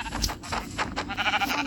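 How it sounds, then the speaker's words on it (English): Sheep bleating in a Minecraft-style video game, a few short bleats close up over game sounds in a brief burst. "And I killed another sheep."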